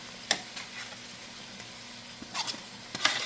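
Pre-cooked okra is stirred in a frying pan with a soft steady sizzle underneath and a few scraping, tapping strokes of a spoon, close and moderately quiet.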